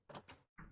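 A door is placed in a Minecraft TekTopia build, giving a very faint, brief wooden clack followed by a second soft knock, quiet and close.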